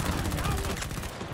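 Rapid gunfire from a first-person shooter video game, a continuous dense burst of shots filling the whole moment, with faint voice underneath.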